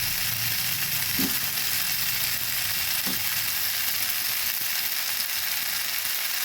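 Fried potatoes and capsicum crackle and sizzle in a pan in a steady, close hiss, with a couple of soft scrapes or knocks from stirring and no voices.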